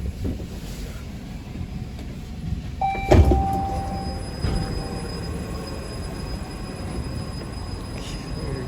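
TTC light rail train sitting at a terminal station, low rumbling hum with a sharp clank and a brief metallic squeal partway through, then steady tonal whine of the idling vehicle.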